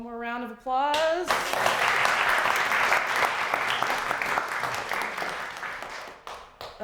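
A brief sung or spoken phrase gives way to a burst of audience applause at a poetry event, many hands clapping loudly and steadily for several seconds before thinning out near the end.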